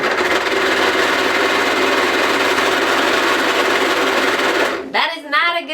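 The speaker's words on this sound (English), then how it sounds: "my sewing machine is refusing to do it" A sewing machine failing to wind its bobbin whirs at a steady, straining pitch for several seconds, then stops abruptly and a voice begins speaking.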